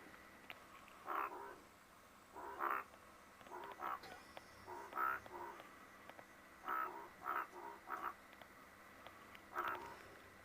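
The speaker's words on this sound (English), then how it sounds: "It's very unusual to hear the frogs call at this time of the day." Frogs croaking a courtship call at sunset on an African safari, a series of short rhythmic bursts of croaks repeating every second or two, moderately close against a quiet background with no talking.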